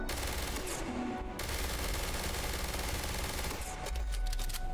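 Rapid automatic fire from the Mine Tear weapon in Starfield, a dense, continuous burst of loud shots running almost the whole time, with a brief pause near the start and a sharper burst near the end.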